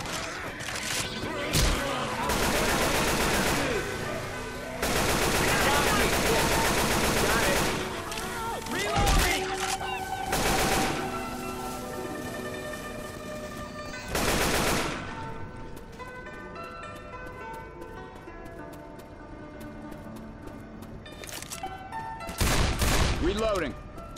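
Rapid bursts of automatic gunfire and single shots from a Left 4 Dead 2 firefight, loud and repeated in clusters with pauses between, alongside game effects and voices talking over the action.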